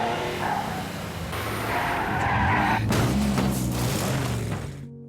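A car speeds off with loud tire squeal and skidding over a revving engine, swelling to a peak midway and then fading.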